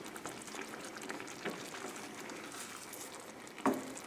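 Risotto simmering in a pan as stock is added and slowly stirred: a soft, close bubbling and sizzle runs throughout, with a faint scrape of the spoon and one brief louder clink near the end.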